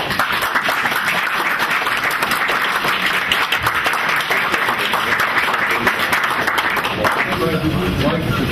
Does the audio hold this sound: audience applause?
yes